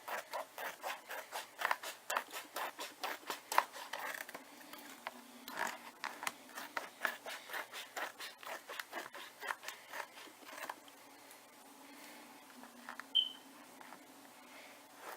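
Scissors trim a layer of a handmade Christmas-themed planner cover in a long, steady run of quiet, rhythmic snips, close by and with no voice over them.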